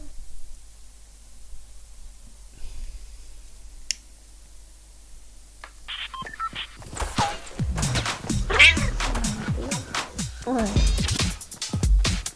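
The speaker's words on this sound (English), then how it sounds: "Is that a cat?" A house cat meows close by, a brief rising cry partway through, amid speech and bursts of video game gunfire.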